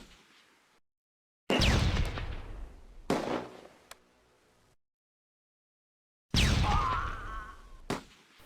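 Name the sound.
grenade explosions in Close Combat: A Bridge Too Far video game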